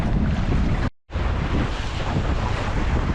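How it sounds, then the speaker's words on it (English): Strong, blustery wind roars across the microphone while sailing a boat, loud and continuous with water wash underneath, broken by a sudden short dropout. "it's very blustery today."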